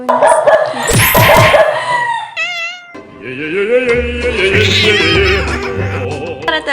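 Several dogs bark and yelp close by in loud bursts, with high whining and howling tones, a short lull, then more overlapping barking.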